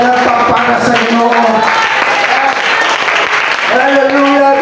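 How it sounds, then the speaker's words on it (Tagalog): Church congregation clapping loudly and continuously for the Lord, a dense steady wash of applause mixed with voices and organ or keyboard tones, with some shouting in the room. "Palakpak para sa Ginoo."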